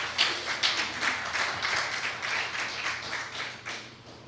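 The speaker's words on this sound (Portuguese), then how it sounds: "Pode aplaudir o Senhor." A church congregation applauds together, a steady wash of many hands clapping at moderate distance with a few sharper individual claps standing out, no voices over it.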